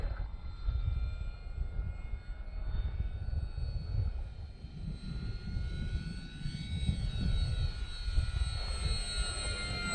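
Steady engine drone from a Bigfoot aircraft in flight, a continuous, even hum with a low rumble beneath, heard alone without speech.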